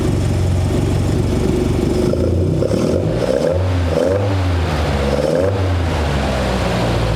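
A 1972 Toyota Celica engine fed by Mikuni 40PHH carburetors runs loud and close, idling roughly before being blipped through several rising and falling revs with a throaty intake roar.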